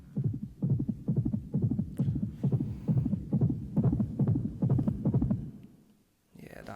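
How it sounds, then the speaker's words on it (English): Heartbeat sound effect in an anti-crack public service announcement, a loud, low, steady thumping pulse repeating about twice a second for several beats before cutting out. "that heartbeat"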